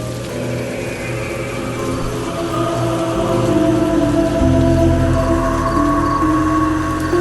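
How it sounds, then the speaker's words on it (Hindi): Light rain falling beneath dark clouds: a steady soft hiss of drops over a low sustained drone, growing slightly fuller toward the end. "आसमान में घने काले बादल और हल्का सा बारिश हो रहा था"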